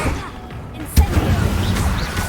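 Fire spell cast in Hogwarts Legacy, a single loud impact burst about midway, followed by crackling combat effects and ambient game noise, with voices.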